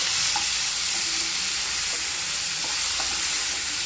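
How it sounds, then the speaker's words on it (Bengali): Grated onion frying in a pan for chana masala, with a dense, continuous close sizzle and a few faint stirring scrapes. "পেঁয়াজটা হালকা করে ভেজে নেব"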